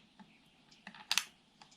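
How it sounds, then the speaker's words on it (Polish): A laptop RAM module presses down into its slot inside an Acer Predator Helios 300, giving a few faint soft ticks and then one sharp, brief click up close in a quiet room. "A teraz powoli, delikatnym ruchem naciskamy do dołu, aż usłyszymy charakterystyczne kliknięcie."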